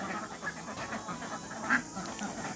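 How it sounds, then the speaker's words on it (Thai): Ducks quacking on a small duck farm where the birds feed on duckweed, several calls overlapping at close range with one louder quack standing out, no voices. "นี่นะครับเป็ดเรา"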